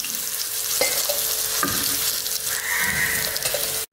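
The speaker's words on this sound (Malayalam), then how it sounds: "ഇതേ കണക്ക് ബാക്കിയെല്ലാം നമുക്ക് ഫ്രൈ ചെയ്തെടുക്കാം." Chicken pieces frying in hot oil make a steady, loud sizzle with broadband crackle. A few sharper pops and utensil clicks come through, and it cuts off abruptly at the end.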